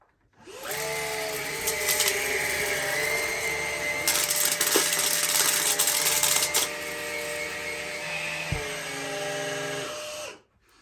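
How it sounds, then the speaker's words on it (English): Numatic Henry Quick cordless stick vacuum running on low power with the brushes on and suction gates closed, a steady close motor whine with a hum under it and brief rattling of debris through the brush bar, starting and stopping cleanly. "So starting off with low power with the brushes on and the suction gates closed so you get the full suction."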